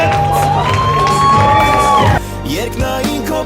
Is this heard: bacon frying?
no